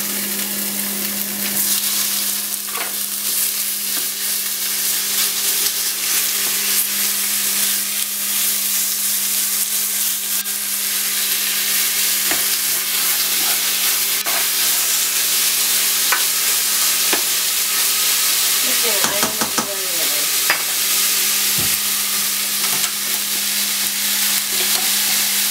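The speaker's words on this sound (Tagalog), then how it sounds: "So, mga after 30 seconds, lagay mo na yung chicken." Chicken stir-frying in hot oil for Thai basil gapao, a steady loud sizzle and hiss throughout with a constant low hum, occasional clinks of a utensil against the pan and no talk.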